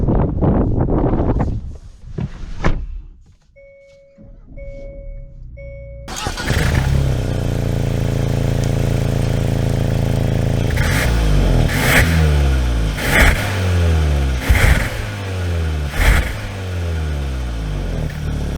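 A 2022 Hyundai Santa Cruz Limited pickup sounds a few soft warning chimes, starts up and pulls away, its engine rising in repeated revving surges close by.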